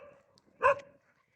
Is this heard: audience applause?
no